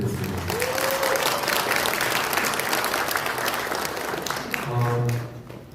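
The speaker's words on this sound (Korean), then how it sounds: "하여튼 다시 한번 우리 이충재 작가님한테 뜨거운 박수 부탁드리겠습니다." Hearty audience applause for author Lee Chung-jae at a book concert, steady and full for about five seconds before tapering off as a voice begins.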